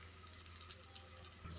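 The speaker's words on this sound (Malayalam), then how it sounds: "ഇതെല്ലാം മസാലയൊക്കെ ഇതിലേക്ക് പിടിക്കുന്ന രീതിയിൽ ഒന്ന് വഴറ്റി കൊടുക്കുക കേട്ടോ." A potato masala for a bread snack sizzles gently as it sautés in a pan. The hiss is soft and steady with a low background hum, and no one speaks.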